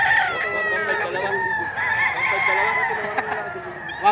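Chickens at a poultry sale calling steadily, with drawn-out clucks and crow-like cries layered together close by, and some background voices mixed in.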